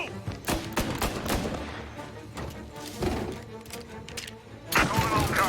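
Rapid bursts of gunfire crack and boom close by in the game Mafia, several shots overlapping in a steady barrage, with a dense noisy background throughout.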